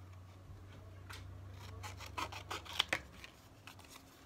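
Scissors cut out a piece of paper for a handmade art page, quiet close snips and rustling paper edges that cluster into a few sharper clicks partway through.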